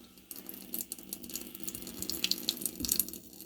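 Water runs from a tap opened wide on the hot side under low water pressure, giving a thin, uneven splashing hiss into a sink. It stays fairly quiet and steady with small surges, and no one speaks.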